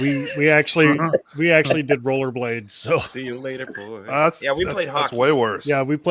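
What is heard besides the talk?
No everyday noise stands out behind the speech.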